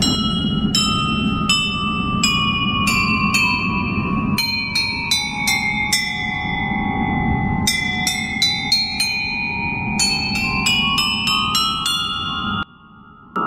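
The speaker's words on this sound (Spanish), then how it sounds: "Y este es un carillón que va para el Palau de Barcelona." A carillon of tuned bells made for the Palau de Barcelona rings out in a quick melodic run of clear, bright strikes with long sustained tones, played alone without talk in a bell foundry.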